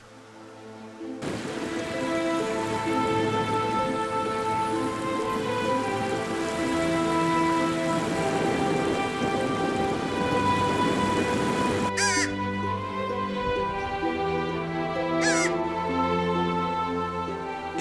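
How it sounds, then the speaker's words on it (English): Continuous rain falls at a campground at Christina Lake, a steady, even hiss of drops on surfaces lasting the whole stretch, with a couple of brief, sharper sounds breaking through near the end. "Unfortunately, I experienced 8 hours of continuous rain."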